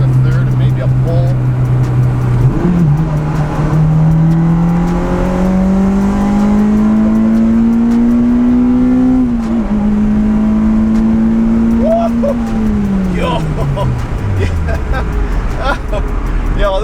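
A 2-liter Honda Civic Type R accelerating hard in third gear after a downshift, its engine note climbing steadily and loudly, dipping briefly, holding, then falling away as the car comes off the throttle.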